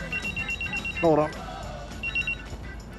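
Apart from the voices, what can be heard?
phone ringing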